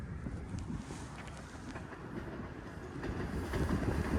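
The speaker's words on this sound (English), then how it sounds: "there's that blue train again" A blue-wrapped train rumbles past at close range in Toronto, a steady low roar with faint rhythmic clatter and some wind buffeting, growing slightly louder toward the end.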